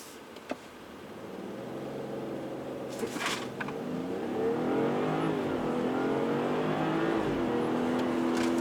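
A BMW G30 540i xDrive with stability control off accelerates hard, its engine note climbing steadily and rising in pitch through quick gear changes, loud and close from inside the car, with no talk.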